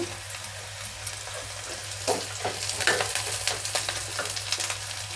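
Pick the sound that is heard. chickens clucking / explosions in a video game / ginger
ginger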